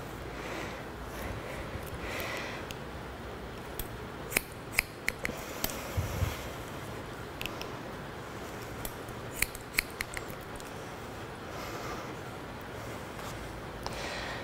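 Hairdressing scissors snip through hair during a uniform layer haircut, with quick irregular bursts of close, crisp metallic cuts over a steady low background hiss.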